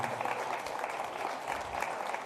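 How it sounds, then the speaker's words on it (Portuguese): Steady applause from a church congregation, many hands clapping continuously at an even level with no voices standing out. "Uma salva de palmas ao Senhor"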